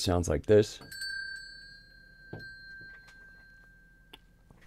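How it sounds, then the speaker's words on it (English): A small hand bell is struck once right after a short spoken phrase. It rings out with a clear, sustained metallic tone that slowly fades, and a couple of faint taps follow. "I do have another bell that I keep behind me over here."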